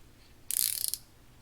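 A Piscifun Phantom baitcaster reel spool spins freely with the magnetic brake set to zero and the thumb bar pressed, making a brief, soft burst of whirring, ratcheting clicks that lasts about half a second against near silence.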